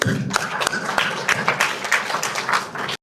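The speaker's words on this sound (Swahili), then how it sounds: "Na wapigia makofi tena jamani" Audience members applaud at an official launch event held with World Vision Tanzania, producing a short burst of scattered claps mixed with murmuring voices that cuts off abruptly.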